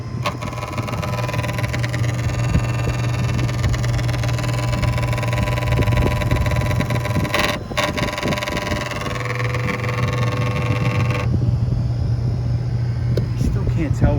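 Fujitsu air conditioner giving off an odd electrical buzz near its transformer or reactor: a steady low hum with crackling, rattling noise, loud and continuous, shifting briefly midway, with no voice heard.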